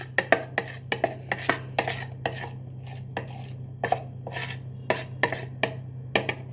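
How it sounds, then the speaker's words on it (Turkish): A spoon scrapes cake batter against a bowl in a series of short, rasping strokes, some quick and clustered, others spaced out, close and fairly quiet over a low steady hum. "Kaşıkla sıyırıyoruz."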